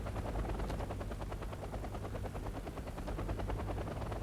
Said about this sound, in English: But now he's moving helicopters over.